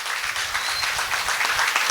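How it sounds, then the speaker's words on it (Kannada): Audience at a cancer service trust survey event applauds steadily, a dense wash of many hands clapping at close to moderate distance, sustained without pause and with no voices on top. "ಒಂದು ದೊಡ್ಡ ಚಪ್ಪಾಳೆ ತಟ್ಟಿ"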